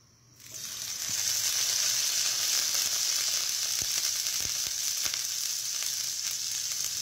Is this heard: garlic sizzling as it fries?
yes